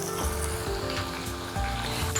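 Chopped onions frying in a small amount of oil in a pan, a continuous close sizzle with light crackling and a few soft stirring knocks, no voices.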